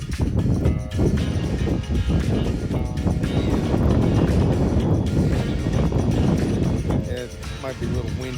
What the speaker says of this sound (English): Might be a little windy here now.